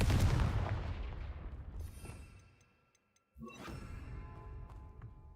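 A Confringo fire spell blast in the video game Hogwarts Legacy lands as a loud, booming explosion that fades over about two seconds, followed by a brief silence and then a second, crackling burst.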